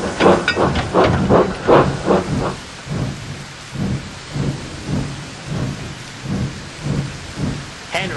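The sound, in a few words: rainstorm with thunder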